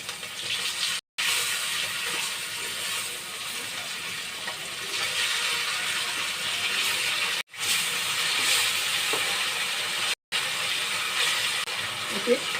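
Desi koi fish frying in hot oil and browning on both sides, a steady broadband hiss and sizzle running throughout, close and fairly even, with a few brief near-silent breaks.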